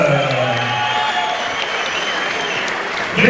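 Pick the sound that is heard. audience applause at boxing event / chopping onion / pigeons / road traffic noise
audience applause at boxing event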